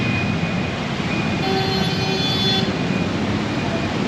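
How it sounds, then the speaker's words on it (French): Rush hour street traffic in Kathmandu makes a dense, continuous roadway roar, with horns tooting now and then, some held longer, and the sound of vehicles passing close by. "on est à l'heure de pointe, on vient de traverser la rue"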